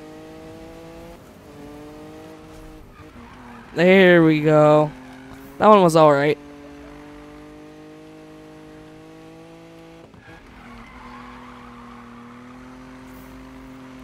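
A small car drifting in the racing game Need For Speed, with two short bursts of squealing tires sliding sideways over a steady engine drone while someone talks.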